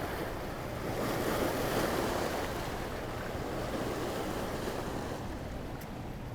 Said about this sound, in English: we got some bigger waves rolling in here